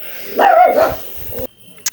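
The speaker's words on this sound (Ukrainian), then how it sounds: "Пси гавкають." Dogs in a pixel-style building video game bark in a short burst of two or three loud, close yips and woofs, followed by a brief quiet stretch.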